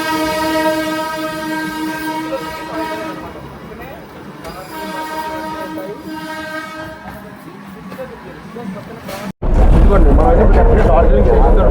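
At Darjeeling station the toy train sounds long, loud tonal horn blasts over station bustle and rumble, then a sudden roaring rush of noise close by near the end.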